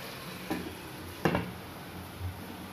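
Chicken pieces for chicken kosha are stirred in a pan: a few soft scraping, clattering strokes against a low, steady sizzle. No one talks.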